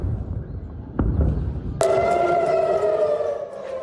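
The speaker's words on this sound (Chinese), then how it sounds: "以色列台拉维夫周四再度响起空袭警报" An air raid siren wails over Tel Aviv, Israel, during Hamas rocket fire. It starts abruptly after a dull thump, then rises into a loud, sustained, harmonic civil defense tone over background rumble.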